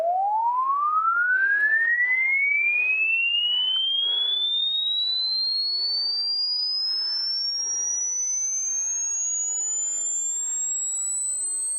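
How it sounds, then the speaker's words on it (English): A steady pure electronic sine wave tone sweeps upward in pitch, rising continuously until it becomes very high and thin, with faint background noise underneath. "Apologies, I'm going to make you listen to a sine wave."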